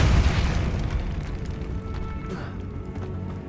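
A Depulso spell blast goes off in the Hogwarts Legacy video game: a deep booming burst at the start that rolls off into a lingering rumble with a brief voice.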